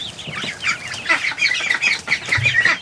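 Muscovy ducklings peep and chirp in a steady run of high, overlapping calls, close by, with soft rustling underneath and no talk.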